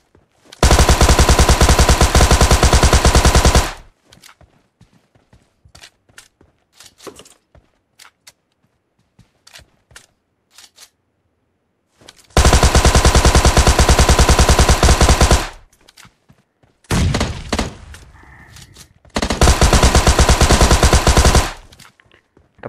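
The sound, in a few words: gunfire in a battle royale video game fight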